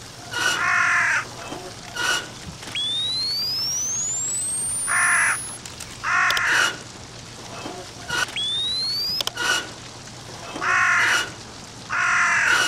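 Crows caw repeatedly in the horror video game Shutter, loud harsh calls in evenly spaced bursts over a low ambient hum, with thin rising electronic tones sweeping between them.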